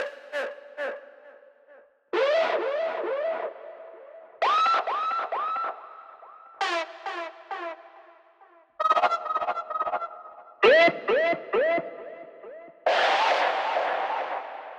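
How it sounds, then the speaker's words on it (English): Heavily distorted, processed vocal shouts and chants from an Evolution Devastator tonal FX library, sounding partway between guitar and voice, played as a series of separate short bursts with brief silences between them. "with the distortion, kind of makes it sound sort of halfway between guitar sounds and vocal sounds"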